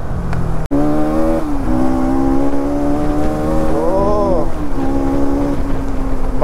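A used Bajaj Pulsar 200NS motorcycle engine revs loud and close, its pitch climbing and falling unevenly as it hesitates and stumbles under throttle, with a brief dropout near the start.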